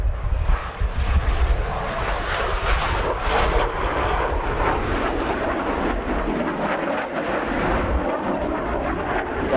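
A loud, steady roar of a Saab AJ 37 Viggen fighter jet's engine fills the whole stretch, broad and rumbling, with no voices.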